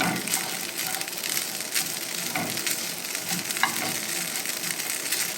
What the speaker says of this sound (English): add a little bit of olive oil to it. And just keep kind of stirring it around, and we're just trying to get a little bit of a crust on it